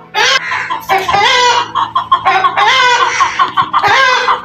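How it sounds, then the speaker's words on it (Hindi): A domestic rooster in a home garden clucks and crows loudly and close, in repeated bursts of harsh, throaty calls that nearly fill the whole stretch. "ये देखिए हमारा मुर्गा है ना"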